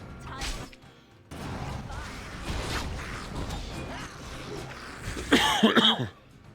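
In the video game Dragon Age: Origins, a few harsh coughs come early, then a continuous creaking, rumbling background plays, ending with a loud rasping cough-like burst.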